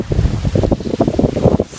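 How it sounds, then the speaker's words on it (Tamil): Strong wind buffets the microphone in a steady, loud low rumble that gusts and pulses throughout, with no voices. "செம காற்று"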